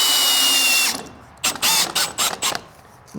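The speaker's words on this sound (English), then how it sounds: "use a drill to screw them in instead of doing a screwdriver" A power drill on low speed drives screws into a chicken coop, whirring steadily for about a second, then giving several short bursts in quick succession, close by with no talking.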